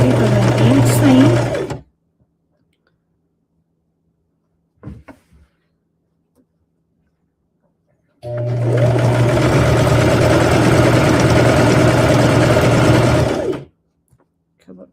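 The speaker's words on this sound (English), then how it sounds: "Sew it deeper than 1 inch seam" Sewing machine stitching a rag quilt seam, heard in two loud, close bursts, a short one then a longer one of about five seconds, with quiet handling in between.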